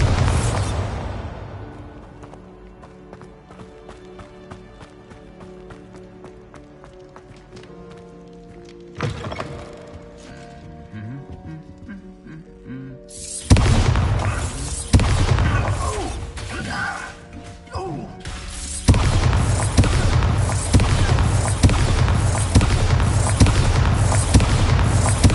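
Repeated Bombarda blasting-spell explosions in the video game Hogwarts Legacy, with booming bursts and crashing debris over game music, growing louder and denser in the second half.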